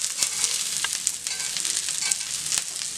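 Green peas hitting a hot frying pan with onion and curry leaves, a close, steady sizzle broken by sharp crackles and pops as the pan is stirred.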